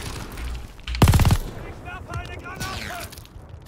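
A grenade explodes in Call of Duty Vanguard as a single loud, close burst that crackles briefly and fades into battlefield noise with soldiers shouting around it.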